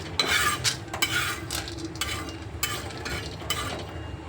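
A spoon scraping and stirring dal as it roasts in a pan, with regular close scrapes about every half second over a soft background hiss.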